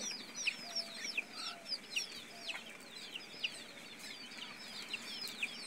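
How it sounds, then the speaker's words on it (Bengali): Faint, repeated soft chirps and peeps of native chicken chicks, scattered over a quiet background with no talking. "ইভিন আমাদের নিচে আছে কিছু দেশি মুরগির বাচ্চা।"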